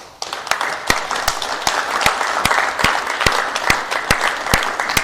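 Audience applause after an evening talk by Richard McDonald: a steady wash of many hands clapping, with sharp individual claps standing out, sustained throughout at moderate-to-loud level with no speech.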